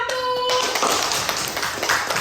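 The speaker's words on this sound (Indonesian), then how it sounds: "Beri tepuk tangan untuk kelompok 1." Students in a classroom clap for a group that has just finished a simple science experiment, a short burst of many hands, fairly close and steady, with a brief tone at the start.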